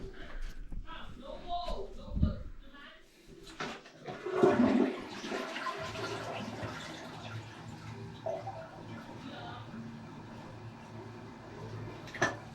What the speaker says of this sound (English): Flushing it, backs up.